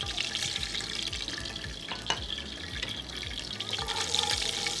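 Bay leaf, cinnamon, green cardamom, cloves and cumin crackle in hot oil for Kashmiri pulao, a busy, continuous sizzle with scattered small pops and spits, moderately close and without talk.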